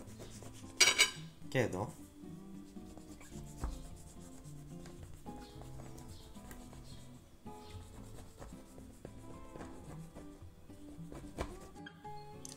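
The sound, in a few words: knife scoring baklava phyllo pastry into pieces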